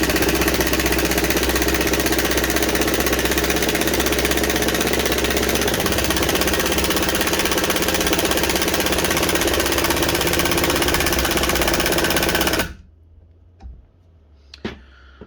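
A Ryobi One+ brushless HP impact driver in first gear drives a batten screw in one long, loud, steady burst of rapid hammering that stops abruptly near the end, leaving a few faint knocks.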